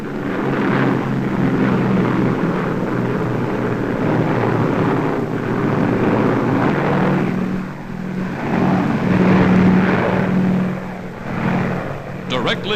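Aircraft engines drone steadily from WWII transport planes over the Mediterranean coast, escorted by American P-38 fighters; a continuous loud rumble with wind-like noise, steady throughout with a slight swell near the end.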